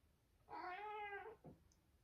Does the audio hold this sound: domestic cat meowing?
yes